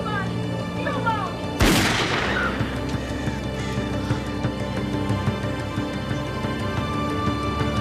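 A single loud, sharp gunshot cracks close by in a tense drama scene, then echoes and rings away over a low background hum.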